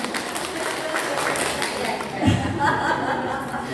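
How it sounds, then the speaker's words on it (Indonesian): Audience applause during a school group's visit to a gallery, a steady broadband patter of clapping with chuckles and crowd murmur mixed in, fairly close and lasting the whole moment. "Tepuk tangan dong"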